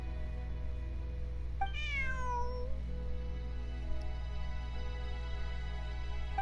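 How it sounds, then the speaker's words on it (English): A cat in a video game gives one clear, drawn-out meow that rises and then slides down, heard alone over a steady low background hum. "Bonnie is Pierre's cat."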